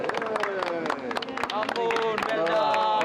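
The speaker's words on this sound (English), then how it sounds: "Hand of applause for this guy." Applause from an audience at a culinary expo for a chef after judging, steady crowd clapping with cheering voices mixed in, moderately loud throughout.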